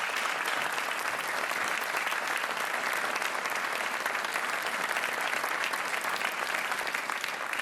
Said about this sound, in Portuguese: Um aplauso para a Joana.